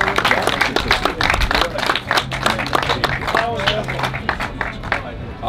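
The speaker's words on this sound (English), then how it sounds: "Please, everyone, give a huge round of applause for Amanda and Brian." A crowd at a mini-golf tournament's announcements applauds the hosts with steady clapping and some whoops, lively and close, with voices mixed in throughout.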